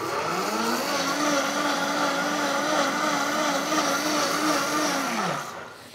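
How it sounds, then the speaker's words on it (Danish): Vitamix blender running with water and a drop of dish soap, a loud steady whirring motor held for about five seconds before it winds down, with no talk. "Og så blender man lige 10 sekunder."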